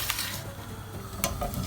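Steady sizzling crackle of gnocchi frying in hot oil in a pan, with a few sharper stirring scrapes near the end.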